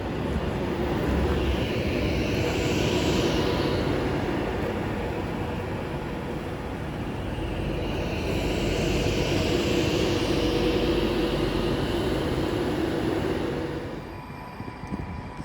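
Avanti West Coast Class 390 Pendolino electric train arriving at Milton Keynes Central on the West Coast Main Line, a loud rushing rumble with rising and falling whine as the carriages roll past, easing off near the end.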